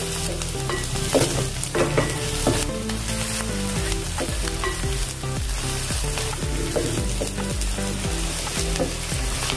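Chopped garlic and ginger fry in a hot pan for paneer tawa pulao, a steady close sizzle lasting throughout with occasional stirring clicks, layered over sustained tonal background sound.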